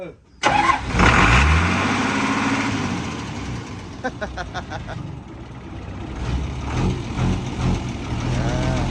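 A used car of unknown engine condition cranks and fires up, then settles into a rough idle as it is backed out, with people talking nearby.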